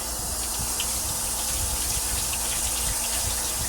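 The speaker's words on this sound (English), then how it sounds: "Now I'm going to give it a good wash." Tap water gushes steadily over a green pepper being washed in a home kitchen, a loud close rush with faint knocks of the pepper under the stream.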